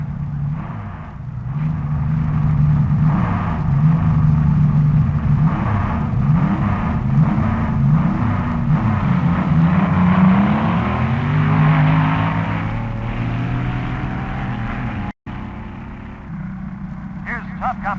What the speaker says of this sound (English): Moon Eyes, a dragster from California.